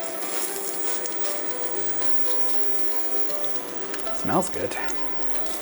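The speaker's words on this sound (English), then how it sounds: "Once the oil is hot, I'm going to just take a spoonful of meat, put it in there, and cook it real quick" Spoonful of meat frying in hot oil for a Mexicano snack, a steady close sizzle and crackle throughout, with brief clinks and scraping near the end and a short spoken remark.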